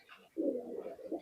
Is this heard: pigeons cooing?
yes